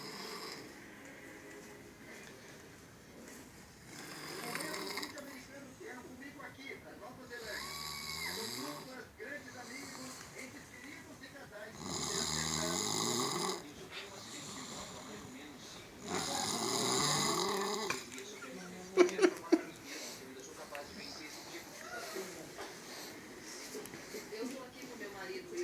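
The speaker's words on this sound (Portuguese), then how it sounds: "Depois fala que não ronca." A man sleeping on the floor snores in slow, rasping, rhythmic breaths that rise and fall at moderate volume, with faint voices and a few clicks in the background.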